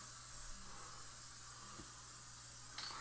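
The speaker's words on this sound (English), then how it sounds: "while I'm using aerosol glue, you want to start playing with fire" Aerosol glue sprayed in a workshop while a rear console and subwoofer box are built for a 1968 Dodge Polara. A faint, steady hiss runs throughout over a low electrical hum.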